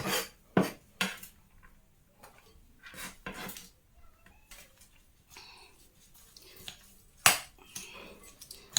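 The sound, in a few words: mixing plantain kebab ingredients in a bowl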